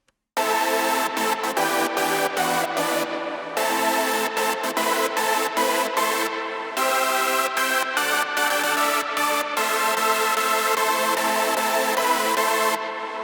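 A hardstyle lead synth from Spire runs through FabFilter Timeless 3 delay, playing a loud, bright, sustained chord pattern with rhythmic chopped gaps and diffuse, reverb-like echo tails throughout.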